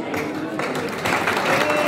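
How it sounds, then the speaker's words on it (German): Dense, loud applause from a crowd at a German championship celebration, a continuous wash of clapping that swells slightly toward the end of the brief stretch. "Geben wir denen noch einen riesen Applaus."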